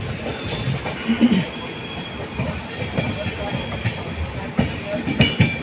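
A Mysore to Bangalore superfast express train pulls out, with a steady rolling rumble, rhythmic wheel clatter and a faint squeal heard from on board, with people talking in the background.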